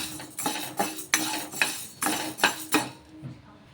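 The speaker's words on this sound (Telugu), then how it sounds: "ఇలా ఈ సగ్గు బియ్యాన్ని బాగా వేయించేసుకుందాము" Sago pearls being dry-roasted and stirred in a pan, giving a run of about seven rhythmic scraping, rattling strokes of a spoon against the metal, close and fairly loud, then fading to quiet.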